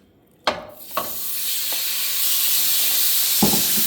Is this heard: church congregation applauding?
no